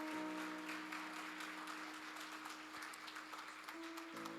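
A church congregation claps in praise, quiet and rhythmic, beneath a sustained keyboard tone that holds steady until it shifts near the end.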